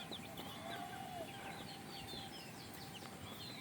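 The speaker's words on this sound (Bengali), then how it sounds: "এই মোরগ," A free-ranging native rooster clucks softly among hens and chicks outdoors. The short calls are faint and distant over a quiet background.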